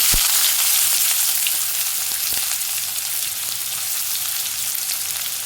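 Chopped onions with cumin sizzle loudly and steadily in a hot oiled pan, a close continuous frying hiss with a few faint stirring ticks.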